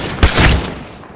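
Gunfire in the Apex Legends video game: a short, loud burst of shots that swells at the start and then tails off over about a second, with no voices.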